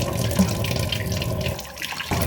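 Tap water runs steadily into a sink during face and hand washing indoors, a continuous splashing flow that briefly drops away near the end before resuming.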